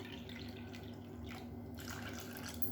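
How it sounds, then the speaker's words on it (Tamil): Water pours into dosa batter in a home kitchen as a soft, continuous trickle, faint and steady throughout with no talking. "இப்போ இதில் இன்னும் 1 கப் அளவுக்கு தண்ணி சேர்த்துக்கலாம்."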